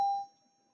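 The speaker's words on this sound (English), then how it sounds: "Sorry for the bell." A single electronic bell tone in a school, struck once and ringing clearly before fading into a long pure hum.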